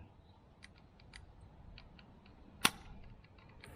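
A Glock 18 airsoft BB gun fires one sharp, crisp crack at targets more than 10 metres away outdoors, standing out against faint scattered ticks in an otherwise quiet setting.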